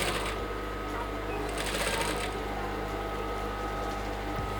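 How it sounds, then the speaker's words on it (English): A sewing machine runs continuously at a steady fast pace, its close, even mechanical whir and rapid needle clatter filling the scene as it top stitches along the edge of a cap. "Now I'm top stitching on the edge of the cap."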